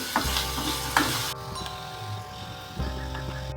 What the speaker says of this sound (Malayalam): അതിലേക്ക് നമുക്ക് അരിഞ്ഞ് വെച്ചിരിക്കുന്ന നമ്മുടെ ഇഞ്ചി ഇട്ട് കൊടുക്കാം